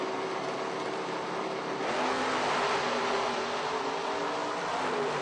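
At a footbrake drag race, a Cavalier and a big Mopar roar steadily off the line together. The sustained engine noise is broad and loud, swelling slightly partway through, with no talk.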